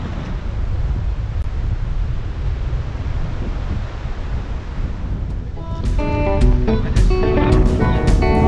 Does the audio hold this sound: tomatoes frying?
no